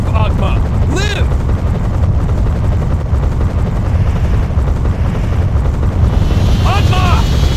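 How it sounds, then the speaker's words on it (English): Helicopter in the video game Metal Slug 3D, a loud steady rotor drone filling the whole stretch, with brief chirping game sound effects layered on top. "Get Major Rossi onto the helicopter"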